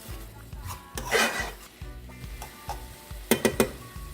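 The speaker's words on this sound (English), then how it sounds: "So you're going to mix your saltfish into your sauteed seasoning." Saltfish being stirred into sautéed seasoning in a pan for Jamaican ackee and saltfish: soft scraping stirs and a light sizzle, with a few sharper utensil clinks near the end.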